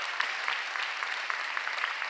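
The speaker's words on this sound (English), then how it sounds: "give them a round of applause for all of their work" An audience at a city State of the City address gives a round of applause for Congress members, a steady, moderately distant wash of clapping with scattered sharper claps.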